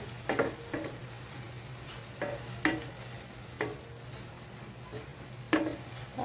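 Bean sprouts stir-fried in a pan with a steady low sizzle and a spatula scraping and tapping against the pan at irregular intervals, with no voices.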